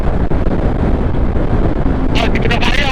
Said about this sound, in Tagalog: Hindi ko na kaya ang hangin.